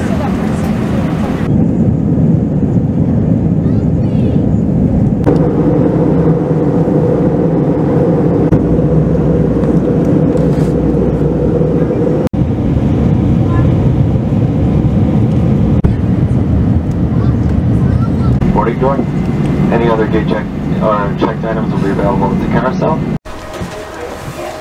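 Steady, loud low-frequency roar fills an airplane cabin during flight, a constant drone that continues throughout with faint voices in the cabin.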